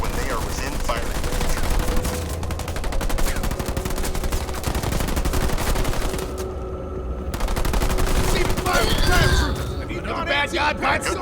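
Automatic gunfire from attacking units in the real-time strategy game Halo Wars 2 rattles steadily across the whole stretch over a dense battle mix, with a sustained tone and voices talking beneath it.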